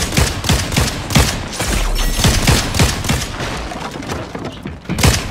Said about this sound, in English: Besides the fact that there's a lot of gunshots.